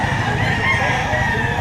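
A rooster crows loudly and close at a weekend chicken market behind SM City Lipa in Batangas, one drawn-out call with clucking fowl and crowd murmur around it.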